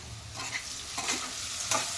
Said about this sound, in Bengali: আমাদের কুমড়ো ভাজা হয়ে যাচ্ছে এখানে।